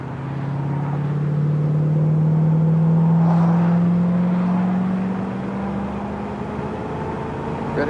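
A 1966 Ford Mustang convertible accelerates from inside the car, its engine tone climbing steadily for several seconds before easing off, with a loud, close rumble and no talking over it.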